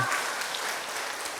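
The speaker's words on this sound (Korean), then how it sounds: "박수 칠라면 치시고 말라면 치시고" Church congregation applauding during a worship service, a dense burst of clapping from many hands, loud and continuous throughout.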